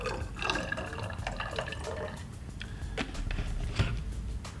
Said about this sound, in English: I'm going to put that into the graduated cylinder where the reaction is going to take place.